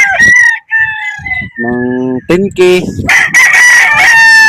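Roosters crow loudly and close by, with chickens clucking around them, from valuable fighting-cock stock. A brief spoken word is mixed in.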